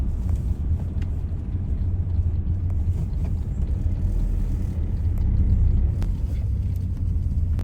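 Steady low rumble of a car on the road, heard from inside the cabin, with faint mechanical ticks and small bumps over several seconds and no talking.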